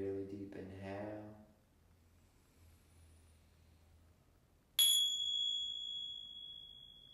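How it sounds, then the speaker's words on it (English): A single bright chime strikes after a voice trails off, ringing loudly at first and then fading slowly through the last few seconds, alone in a quiet room. "try to listen to the chime one more time all the way through."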